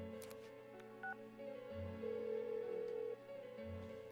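Phone dialing in the Persona 4 Golden video game: a run of electronic keypad tones, some short and some held, followed by a steady ringing tone.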